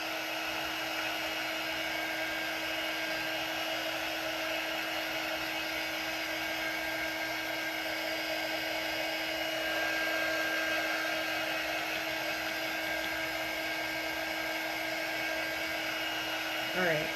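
A hair dryer blows steadily on wet craft paint at close range, a continuous whirring hum running unbroken throughout.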